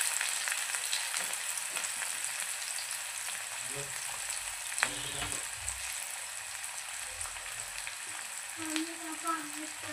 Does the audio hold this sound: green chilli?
yes